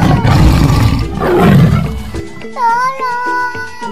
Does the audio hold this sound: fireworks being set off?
no